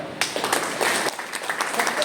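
An audience at a talk on organic farming bursts into loud, sustained clapping that fills the room for a couple of seconds.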